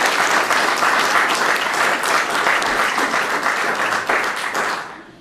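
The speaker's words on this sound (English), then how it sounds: "Let's give them a little round of applause for even running." An audience at a candidate forum for state representative claps for the candidates, a full steady round of applause that tapers off and fades out near the end.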